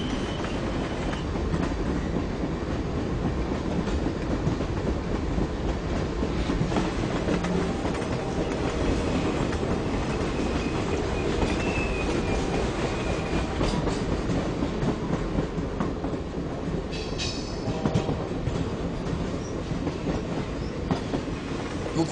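A mountain train of a company line, hauling produce and livestock toward Recife, rumbles steadily past on the rails with a continuous loud rolling roar and faint clicking wheels, no voices.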